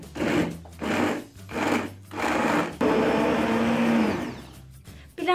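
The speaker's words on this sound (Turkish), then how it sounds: "Şimdi blenderdan geçirelim." Figs whirring in a kitchen blender for a two-ingredient sugar-free dessert: several short loud pulses with brief gaps, then one longer steady run that winds down, close and without speech.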